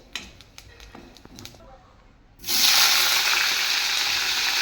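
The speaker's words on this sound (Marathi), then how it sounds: "ते थोडंसं मी तेलात परतून घेत आहे." Grated coconut hits hot oil with a sudden loud, steady sizzle that starts midway and holds to the end, after a stretch of quieter clinks and kitchen handling.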